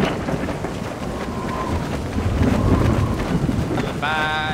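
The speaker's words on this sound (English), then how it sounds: "looks like the storm has lasted a bit" Steady heavy rain and low rolling thunder fill a Half-Life 2 roleplay storm, with wind buffeting throughout and a brief tonal chime near the end.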